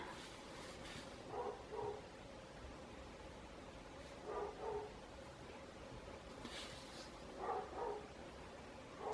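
A dog barks in short doubled bursts from a neighbouring yard, repeating a few times at moderate distance over steady background hiss.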